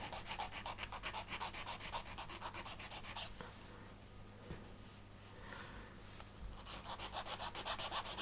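Steady rhythmic rasping of a file rounding the corners of a small wooden part for a Vanguard Models Royal barge model boat, close and continuous, with a brief pause mid-stroke before the strokes resume.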